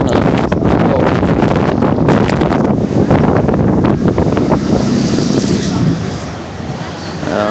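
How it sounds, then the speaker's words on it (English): Heavy wind buffets the microphone at an outdoor protest in Asheville, loud rumbling gusts that dominate throughout before easing slightly near the end. "It is real windy out here."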